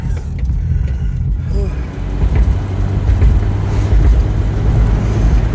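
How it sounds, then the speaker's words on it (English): A 1970s-style Volvo 245 wagon fitted with IPD sway bars drives along, its engine and road noise a loud low rumble with wind buffeting, as someone talks over it from inside the cabin. "it feels good driving a Volvo again"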